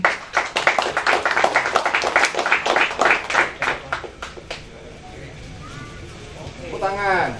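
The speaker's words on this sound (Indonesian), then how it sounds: "Tepuk tangan." An audience at a Gus Dur memorial event at a cultural school in Malang claps in a burst of loud, close hand claps for about four seconds, then the clapping fades as a voice speaks over it.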